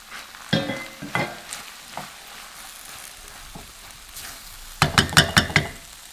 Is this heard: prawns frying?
yes